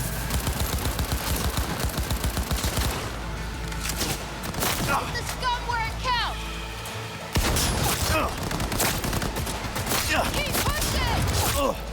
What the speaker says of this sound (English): This shotgun's powerful